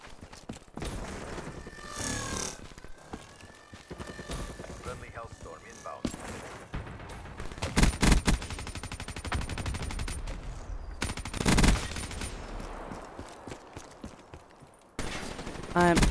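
Rapid automatic gunfire from the Dingo gun in a shooter video game, coming in repeated loud bursts with mechanical clatter, and a voice talks over parts of it.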